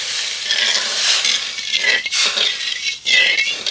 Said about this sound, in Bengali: চিনি গলে চিনি রসটা ফুটছে